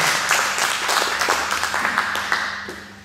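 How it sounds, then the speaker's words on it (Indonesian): A church congregation claps together in a dense burst of applause that fades toward the end, with individual claps audible close by and a low hum underneath. "Tepuk tangan dulu buat Tuhan kita yang luar biasa"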